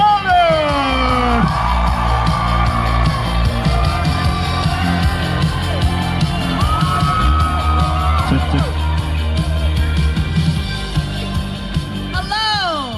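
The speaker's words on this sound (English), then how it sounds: "please give a big round of applause" A dense fan crowd at an Indonesian celebrity appearance screams, whoops and cheers loudly and continuously, with shrill rising yells over an amplified host voice announcing the guest.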